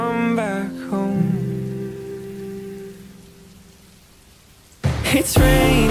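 Rain hisses softly under a fading sung melody, then grows faint and steady on its own before a loud, broad wash of downpour bursts in near the end.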